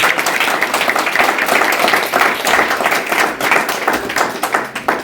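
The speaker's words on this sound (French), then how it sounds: "Est-ce qu'on peut les acclamer très très fort?" Loud, sustained applause from an audience in a hall at an installation ceremony, dense clapping throughout with some crowd noise mixed in.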